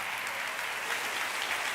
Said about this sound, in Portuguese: Vocês aplaudem louvor a Deus, não aplaudem uma palavra dessa?